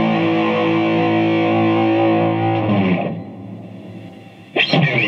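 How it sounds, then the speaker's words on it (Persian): A distorted electric guitar note rings through an amplifier and fades into buzzing hiss, followed by a short noisy strum. "این نویزایی که میشنوید توی امپ یه صدای منطقیه، اصلا گیتار الکتریک نویز داره"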